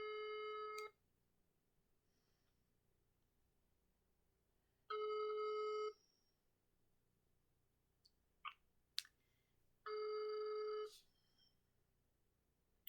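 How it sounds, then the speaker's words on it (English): Outgoing telephone call ringback tone on a phone: three evenly spaced rings, each about a second long, separated by quiet gaps of several seconds, with faint clicks between. "I'm trying to ring the landlady again."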